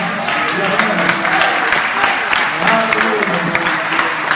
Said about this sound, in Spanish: Gracias por este aplauso, Señor.